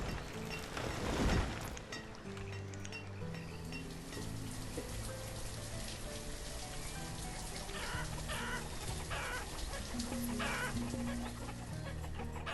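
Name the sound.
chickens clucking in video game Banished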